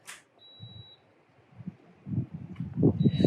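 An off-grid solar power system gives high, steady electronic beeps as one of its battery cells overcharges. There is one beep near the start and another at the end, with wind gusts and low rumbling noise in between.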